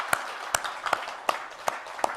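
A church congregation at a Sunday service gives encouraging applause, heard as a slow series of six or seven distinct claps over a soft wash of background clapping, moderately distant and fairly quiet.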